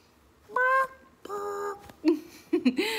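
A pet hen gives a few short, tonal calls, two drawn-out cries followed by lower, choppier clucks, close up and fairly loud, with no talking over them.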